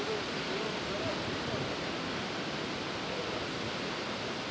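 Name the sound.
waterfall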